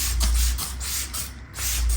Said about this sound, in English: spray it, squeeze it, and then do a final spray